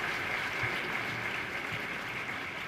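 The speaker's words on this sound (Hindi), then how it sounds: "जोरदार तालियां उनके लिए भी और जीजी के लिए भी।" Audience applause at a university festival event in Haridwar, a steady wash of clapping from a crowd lasting the whole stretch, moderately loud with no voices over it.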